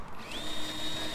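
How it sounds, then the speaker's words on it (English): A power drill whirs steadily for about a second, driving a screw into a first-generation Mini Cooper door pull, close and moderately loud with no talk. "it's simply a case of putting your four screws back in"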